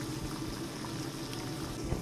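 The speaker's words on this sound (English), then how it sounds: "Bring some water to a boil" A pot of water at a rolling boil on the stove gives a steady, close bubbling hiss and gurgle that holds an even level throughout.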